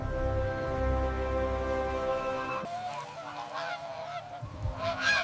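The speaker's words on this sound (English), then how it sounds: "Geese take to the skies, joining flocks and flying in formation." Migrating geese honking in a flock, a dense overlapping chorus of calls that is loud and fairly close at first, then thins into scattered, more varied honks with a few louder ones near the end.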